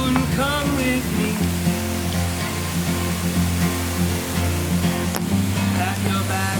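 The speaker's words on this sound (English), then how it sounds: "we got the bottom of the falls to ourselves" Twin Falls waterfall on Maui, a loud, steady roar of rushing water that fills the whole scene, with music playing over it.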